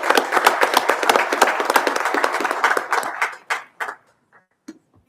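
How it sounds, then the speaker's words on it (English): Audience at a commission meeting giving a round of applause, dense clapping for about three seconds that thins to a few scattered claps and then fades into silence. "Round of applause, please."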